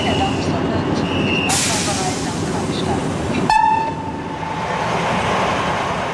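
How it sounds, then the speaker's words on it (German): A special train departs behind the electric locomotive E 41 001, with a steady loud rolling rumble. A short, sharp whistle or horn tone sounds midway, followed by a faint lingering tone. "Der Sonderzug darf abfahren."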